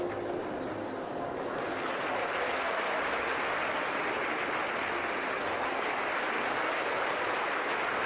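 A large crowd applauds at the end of a show-jumping round at the Global Champions League event in Cannes, a loud sustained wash of clapping that holds throughout.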